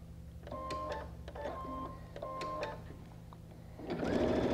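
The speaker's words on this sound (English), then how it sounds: "I'm just going to do a quarter inch seam." Sewing machine running a quarter inch seam on fabric strips, a quiet rhythmic whirring stitch with faint mechanical clicks, close, swelling louder near the end.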